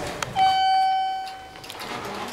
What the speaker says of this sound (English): Door closes when you push the button.